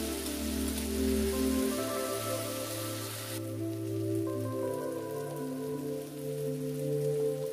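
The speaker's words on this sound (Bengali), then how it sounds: "পেঁয়াজকেও 2-3 মিনিট ভেজে নেব" Onion with ginger and garlic paste fries in a pan for a mixed vegetable curry, giving a continuous soft sizzle and crackle that shifts in tone partway through.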